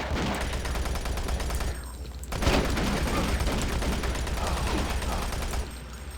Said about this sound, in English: We'll use the machine gun for a bit.